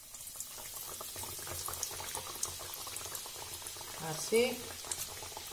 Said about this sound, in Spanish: Ya tenemos el aceite calentito y vamos a echar nuestros filetes.